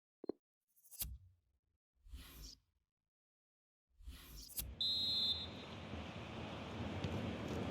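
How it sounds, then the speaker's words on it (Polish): A referee's whistle starts the second half of a FIFA 22 Bundesliga match between Hoffenheim and Freiburg. It is a short, sharp blast, followed by a steady stadium crowd roar after a few scattered soft sounds. "Gwizdek rozpoczynający drugą połowę za nami"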